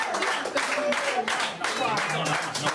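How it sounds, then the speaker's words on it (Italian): Applause from a crowd, dense clapping that keeps going through the whole stretch, heard together with nearby voices and shouting from people talking over it. "qui ci sono applausi"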